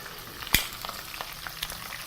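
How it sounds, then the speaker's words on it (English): Potato fingers fry in hot oil, giving a continuous soft sizzle with scattered crackles and pops and one sharp louder pop early on. "that's now frying away really nicely"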